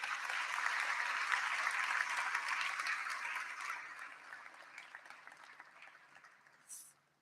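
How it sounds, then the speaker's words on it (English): Audience applause at a high school senior graduation ceremony in a large hall, a broad sustained wash of clapping that gradually thins and fades, with a brief cheer or whistle near the end. "Please give them a round of applause."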